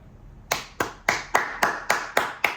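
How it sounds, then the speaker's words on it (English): Seven sharp hand claps in a steady, slightly uneven rhythm, close and loud, with quiet gaps between each one and no talking. "Clap it up"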